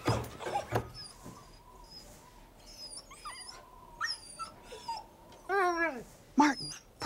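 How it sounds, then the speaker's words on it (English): Puppies whimpering and yipping close by, a series of high, wavering whines and short yelps scattered unevenly, with a few soft knocks between them. "Puppies!"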